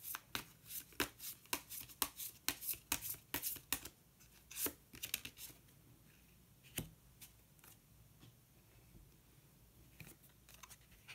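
Tarot cards are shuffled and drawn close by, a rapid run of crisp paper flicks and snaps in the first seconds, then a few sparse soft taps before near quiet.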